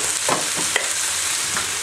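Vegetarian Nigerian fried rice is stirred in a hot pan under a continuous frying sizzle, with a few soft scraping strokes of the spoon.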